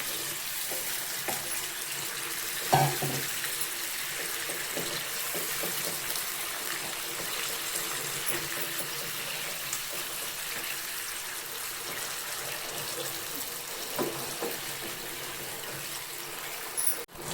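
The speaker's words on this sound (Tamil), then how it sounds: "அரை டம்ளரில் தண்ணி சேர்த்தாச்சு" Water pours steadily into a container for a long stretch, a continuous splashing trickle with a few small clinks, no talking.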